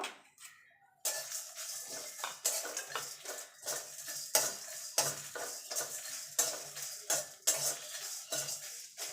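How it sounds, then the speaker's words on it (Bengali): Whole spices (fennel, coriander, cumin, star anise and mace) dry-roasting in a pan, heard as busy clinking and scraping of a utensil against metal with a light sizzle beneath, after a brief quiet start. "এই মশলাগুলো ভেজে নেব।"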